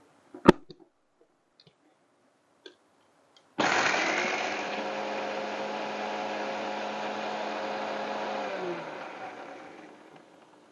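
A kitchen mixer grinds garlic, cumin, coriander and curry leaves for rasam, a steady loud whirring hum that starts abruptly after a few faint clicks, runs for several seconds, then winds down.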